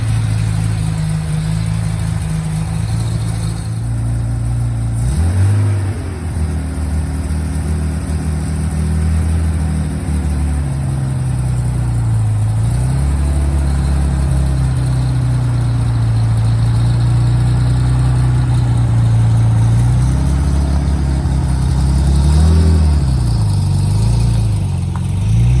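A car engine idles in a steady, heavy low drone as the car pulls away, with a few short rises in pitch where it revs, then settles each time.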